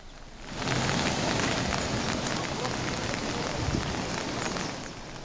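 Heavy monsoon rain pours down steadily in Yadgir district, Karnataka, a dense, loud, continuous hiss of water hitting surfaces that swells after the first half-second and holds without a break.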